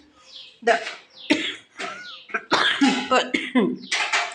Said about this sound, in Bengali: প্রচণ্ড পরিমাণে কাশি হচ্ছে